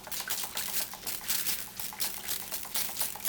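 Soft, irregular patter and crackle of water poured onto soil around a Pilea aluminum houseplant cutting in a pot, close and faint, in uneven bursts.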